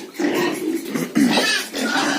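Pigs about 70 to 80 days old drink and grunt close by in a pen, a steady run of snuffling grunts with some voices mixed in.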